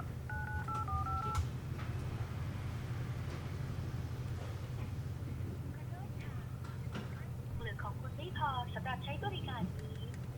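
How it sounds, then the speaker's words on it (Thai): A mobile phone dials an outgoing test call after being unlocked from its carrier contract: a quick string of keypad tones at the start, then later bursts of higher warbling tones, all over a steady low hum. "เดี๋ยวเราเทสโทรออกเลย"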